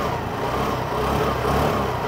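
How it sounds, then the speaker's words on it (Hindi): A Honda Activa 125 Disc H Smart scooter runs close by, its engine and exhaust giving a steady, even drone with a slight rise in intensity toward the end. "इंजन साउंड सुनिएगा आइडियल कंडीशन पर, एग्जॉस्ट नोट"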